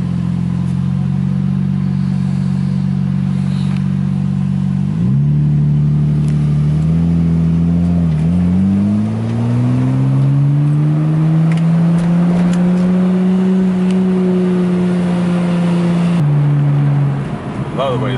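A Nissan Skyline R33 GTR's engine pulls away loudly from close by, its note climbing and dipping through several gear changes in one sustained run, with no talking.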